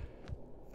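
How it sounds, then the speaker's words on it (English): A single low, muffled thump from a heartbeat effect in the video game Human Fall Flat lands briefly over a soft background hum, with no speech. "why are there heartbeat noises?"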